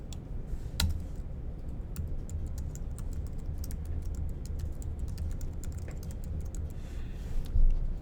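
Steady computer keyboard typing while writing code, a continuous run of quick, close key clicks with occasional louder taps, no voices.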